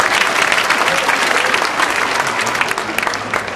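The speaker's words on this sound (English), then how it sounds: "Give yourselves a round of applause." Loud, dense applause from a large crowd at a high school graduation, sustained evenly throughout with no pauses.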